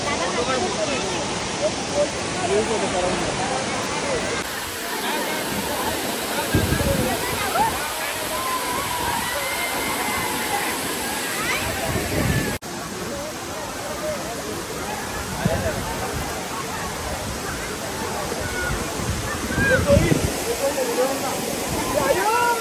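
The Savatkada waterfall in Kokan gives off a dense, continuous roar of falling water, steady and close, with family voices talking and calling over it.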